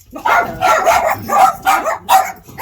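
Dogs barking in a nearby home, five sharp, loud barks at a steady rhythm with short pauses between them.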